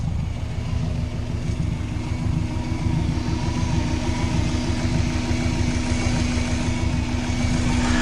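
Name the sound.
turbocharged Subaru engine running at first start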